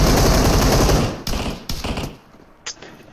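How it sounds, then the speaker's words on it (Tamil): A burst of rapid gunfire from an ice gun in a mobile shooter game rattles loudly, then breaks into a few short separate shots and thuds. "ஐஸ் கன் வந்து அடிச்சிருக்காரு"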